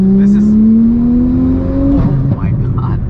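A turbocharged, body-swapped 800 hp Porsche GT3 Cup car accelerates at full throttle on the street. A loud engine tone climbs steadily for about two seconds before a shift, and a voice speaks over the roar.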